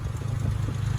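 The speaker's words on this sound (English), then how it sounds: "So with the engine running, let's have a look under the bonnet." 1962 Jaguar Mark 2 with the 3.4 engine idling, a steady low, slightly lumpy rumble with a faint mechanical clatter, heard briefly and fairly quiet.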